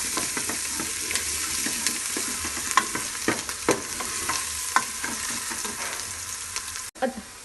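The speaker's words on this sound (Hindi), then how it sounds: "इसकी भी 1 मिनट प्याज के साथ भुनाई करेंगे" Steady sizzling of ginger-garlic paste frying with onions in a pan, with occasional stirring scrapes and pops, close and continuous, briefly cut near the end.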